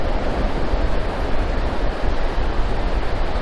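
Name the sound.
beach at Harris Beach, southern Oregon coast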